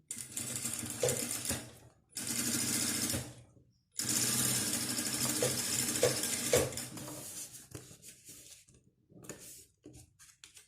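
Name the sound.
sewing machine stitching a fabric pouch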